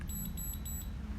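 A Galvanic Spa skincare device gives a faint, high-pitched electronic beep after button 1 is pressed. The tone repeats in three quick pulses over a low background hum.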